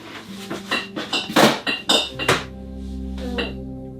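Dishes and a bowl handled in a small kitchen, with a series of close clinks and knocks of crockery, a couple of louder clatters in the middle, and a low steady hum underneath.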